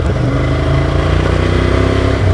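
A Ducati Scrambler Desert Sled motorcycle rides along a choppy gravel fire road, its engine throbbing loud and close with a steady pulsing rumble and rattle, no talking.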